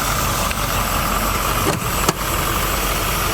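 A 1979 Chevy G20 custom van engine, running for the first time in 35 years, idles with a loud, steady, close-up rumble that holds throughout, with no voices.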